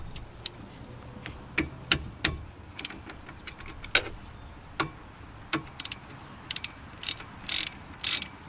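Ratchet wrench tightening bolts on a Jeep during maintenance, sharp irregular clicks and short ratcheting bursts close by in a quiet space.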